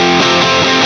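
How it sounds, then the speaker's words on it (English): Guitar through an Elite 800 amp model in Avid Pro Tools Eleven MKII with the preamp gain raised, giving a dense, loud, distorted sustained tone for under a second, no talking. "to the amount of distortion or gain that you're looking for"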